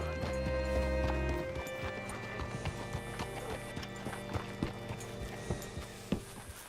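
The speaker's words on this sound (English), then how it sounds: "Hitch your horse up here." Horse hooves clip-clop in the Red Dead Redemption 2 video game, starting under a low rumble and then settling into a steady walking rhythm of distinct, close hoof strikes, with a faint voice in the background.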